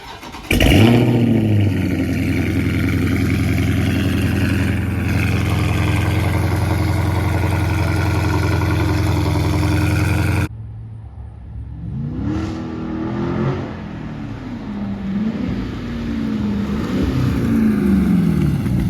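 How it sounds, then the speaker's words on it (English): A car with a 392 engine cold-starts with a sharp crank and bark, then settles into a loud, steady, deep idle for about ten seconds before cutting off; quieter revs and rumbling follow. "Give y'all a cold start right quick. See how loud it is."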